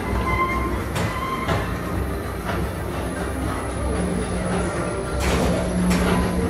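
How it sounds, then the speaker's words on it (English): Walt Disney World Magic Kingdom PeopleMover ride train rolling steadily, a continuous low rumble with faint periodic clicks and a brief squeal near the end, no voices. "your express train keeps on rolling through the future"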